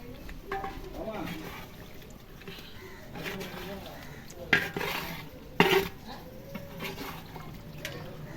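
A spoon scrapes and clanks around a pot of biryani in steady stirring strokes, with a few sharper metallic knocks, while people talk nearby.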